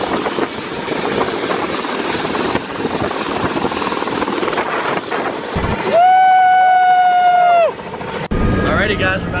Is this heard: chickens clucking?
no